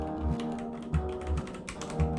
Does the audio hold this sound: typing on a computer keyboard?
yes